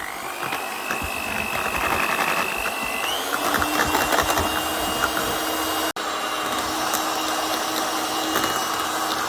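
An electric mixer whips cream until thick for an apple cake, a steady high whine that shifts pitch partway through, then runs on evenly after a brief cut.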